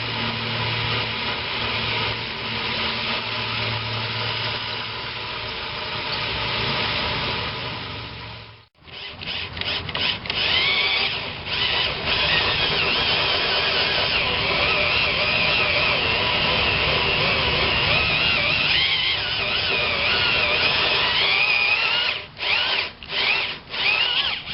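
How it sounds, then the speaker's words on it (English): A power drill bores through a boat's hull to mount an Airmar B60 transducer, a loud continuous grinding whine that pauses briefly, then resumes with several short stop-start bursts near the end. "keep the drill perfectly perpendicular to the surface you're drilling into"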